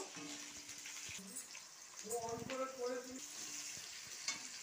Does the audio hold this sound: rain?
no